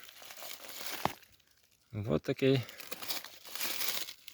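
A plastic bag crinkles as mushrooms are tipped out of it, a brief burst of crackling rustle, with someone talking before and after.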